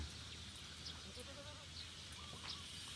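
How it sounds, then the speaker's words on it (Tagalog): Sheep bleat faintly in a farm pen, a few short distant calls over a steady low background hum, with no talk. "So anim po ang ating mga tupa."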